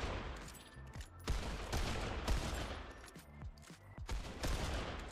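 Repeated gunfire in Fortnite, loud bursts and rapid shots clustered throughout with brief gaps, close and dominant with no speech over it.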